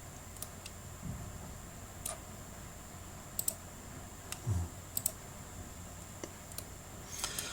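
A computer mouse wheel is pressed at a desk during 3D modeling work, giving a few faint, sparse clicks with quiet gaps between them.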